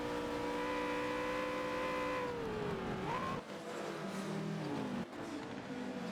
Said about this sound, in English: These cars look and sound amazing.